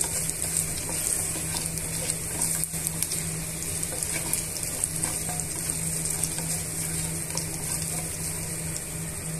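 Garlic and dry red chillies tempering in hot oil for a gongura chutney, a loud, constant close sizzle with crackling spits running throughout, no voices.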